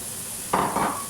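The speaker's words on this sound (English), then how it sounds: "I'm going to spray it with some fry light. And then add my veggies." Onions and peppers land in a pan sprayed with low-calorie cooking spray, a brief burst of sizzling and rustling that rises suddenly and fades within about half a second, no speech.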